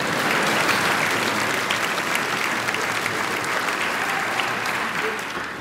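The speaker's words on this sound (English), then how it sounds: "You're allowed to clap, I think." An audience at a Basketball Hall of Fame enshrinement speech breaks into loud, sustained applause, a thick wash of clapping that stays strong throughout and eases slightly toward the end.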